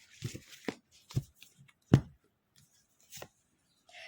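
Tarot cards shuffled and drawn by hand, giving several soft, brief riffling and slapping bursts at uneven intervals, close up in a quiet room.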